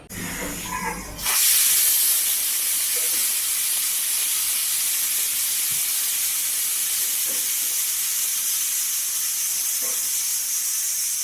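A loud, continuous steam hiss bursts out after a brief moment of voice and keeps going steadily, as pressure is released from a pressure cooker of beef curry.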